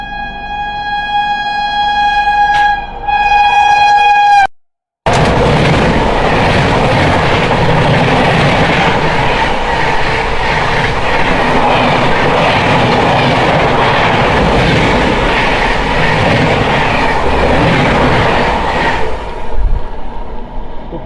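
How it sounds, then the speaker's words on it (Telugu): The 18520 LTT–Visakhapatnam express passing close by: a long sustained horn blast at the start, then a loud continuous roar and rattle of coaches rushing past that fades near the end. "ఇప్పుడు వెళ్ళింది కదా ఆ ట్రైన్ వచ్చేసరికి 18520 ఎల్టీటీ నుంచి విశాఖపట్నం వరకు వెళ్ళే ఎక్స్ప్రెస్ ట్రైన్ అది"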